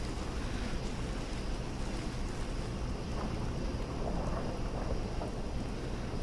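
Rain falls steadily in Fallout 4 on a dark, rainy day, a constant soft hiss with a low rumble of thunder running underneath.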